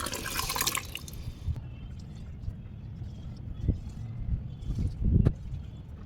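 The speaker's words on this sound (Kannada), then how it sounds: "ಇವಾಗ ನೀರು ಹಾಕ್ಬೋಣ ತುಂಬಿದೆ" Water poured out onto garden plants, a splashing, trickling flow with a few louder gushes and drips, fairly close and with no talking.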